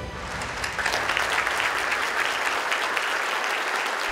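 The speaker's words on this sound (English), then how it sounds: "the contestants were greeted with a warm round of applause from the audience" Warm, sustained applause from the audience at the award ceremony of the Yamaha World Technician Grand Prix 2018, with dense crowd clapping swelling in quickly and holding steady and full throughout.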